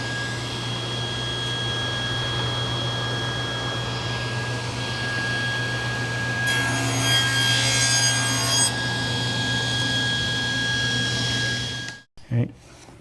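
A hand saw cuts a thin strip of wood about an eighth of an inch thick with a continuous close rasping, then stops abruptly near the end.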